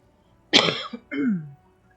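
A single rough cough followed by a short throat-clearing grunt, close and loud in an otherwise quiet room.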